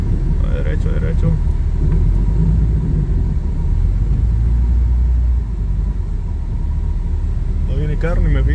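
A car reverses slowly along a snowy street, its steady low engine rumble close and continuous, while someone talks over it in Spanish.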